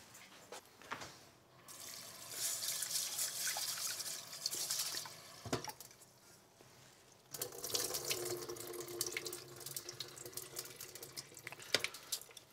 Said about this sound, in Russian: Я пока могу помыть рис.